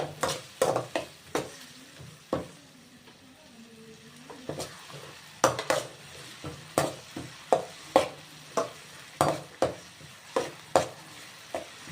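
Tomatoes frying in a pan for a cabbage fry, a steady close sizzle broken by repeated sharp stirring scrapes and clatters of a spoon against the pan.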